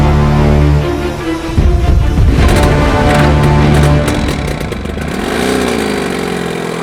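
A two-stroke Yezdi 350 motorcycle engine runs close by, idling with a steady buzzing note, then revving up and settling back down, with no talking.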